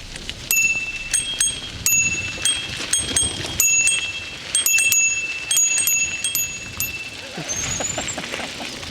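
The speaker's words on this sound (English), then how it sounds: "we also had a wee test to see if those bells were working" Several bicycle bells ring in quick, overlapping dings, some close and loud, others fainter, over rolling wheel and outdoor noise, on a trail in the Cairngorms National Park, Scotland.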